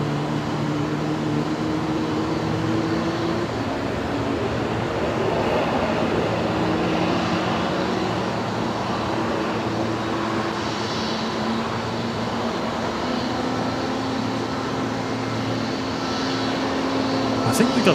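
A Boeing 737 Max 8 jet taxiing at night at Brisbane Airport, a steady broad engine rumble and whine holding throughout at moderate distance, with talk present alongside.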